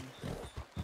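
Hooves clip-clop at a walking pace in a Western roleplay video game, a few soft, rhythmic thuds close by and fairly faint.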